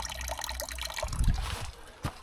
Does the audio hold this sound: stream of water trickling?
yes